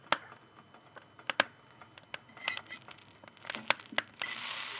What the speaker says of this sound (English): Now she's frying. She's frying now.